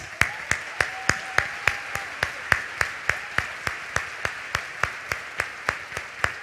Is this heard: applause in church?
yes